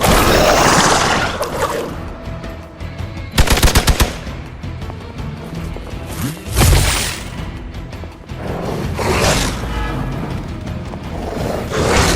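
Bursts of rapid automatic gunfire ring out in the video game Marvel Midnight Suns, loud and close, amid whooshing effects and a roaring game soundscape.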